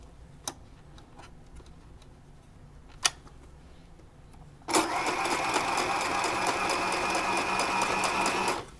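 A sewing machine stitches a doll's dress, starting about halfway in after a few faint clicks and then running loudly at a steady, fast, even pace until the end.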